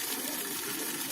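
Water gushes and splashes steadily and close as it is scooped and poured at Buratha Mosque in Baghdad, a continuous bright rush.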